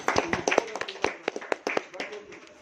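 A small group at a mental health institute claps in sparse, uneven bursts, individual sharp hand claps close by and scattered rather than a full ovation.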